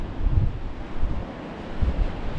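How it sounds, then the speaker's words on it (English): Steady wind rushing and buffeting a microphone outdoors on the English coast, with a low rumble of surf beneath, loud and continuous with gusty swells. "it is quite windy down here"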